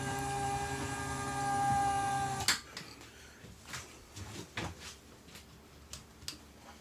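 A drawer in a Thor 2020 Outlaw 29J toy hauler RV: a steady electrical hum stops, then one sharp clunk is followed by several lighter knocks and rattles at close range.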